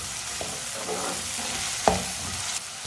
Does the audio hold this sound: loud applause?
no